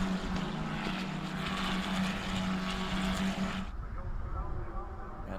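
F4 race cars scream past on the opening lap at Brno, a loud continuous engine roar that drops away suddenly near the end, with a commentator talking over it.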